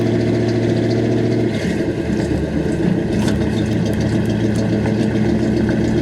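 A 1982 Chevrolet K10 pickup engine idles steadily as it warms up on a Texas morning, a continuous low rumble that shifts slightly in tone partway through, close and loud with no talking.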